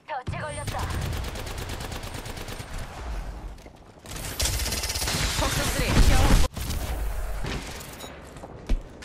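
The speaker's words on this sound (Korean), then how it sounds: "사격 개시" Automatic gunfire in the video game Apex Legends, with loud sustained bursts of rapid shots that stop and resume, a sharp impact near the end, and game voice lines mixed in.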